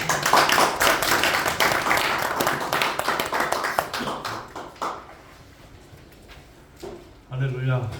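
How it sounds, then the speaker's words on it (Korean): A congregation at a Korean church breakfast worship service applauds to welcome a pastor, a burst of clapping for about five seconds that thins out and fades, followed by someone speaking. "나오실 때 한번 박수로 환영하겠습니다"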